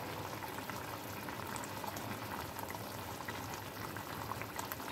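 Fish curry gravy simmers and bubbles in a pan with green chillies, a steady, faint, dense crackle of boiling liquid that continues without a break.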